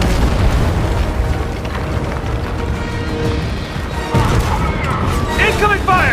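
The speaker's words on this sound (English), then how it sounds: "Incoming fire!" Video game combat with gunfire and explosions, booms and bursts layered densely and continuously, with voices calling out over the battle.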